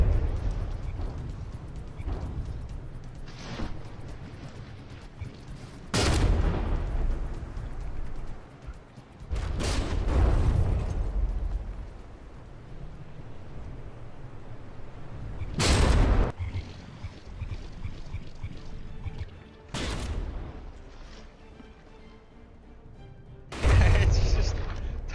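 Ship guns and artillery firing in a From The Depths frigate tournament battle: sharp, booming volleys burst out every few seconds over a steady rumbling battle bed, loud and close, with a voice talking over parts of it.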